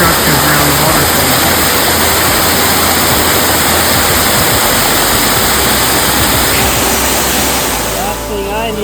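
A waterfall roars steadily on a February mountain hike to the Mt. Le Conte shelter, a loud, broad rushing wash that fills the scene without a break and eases slightly near the end.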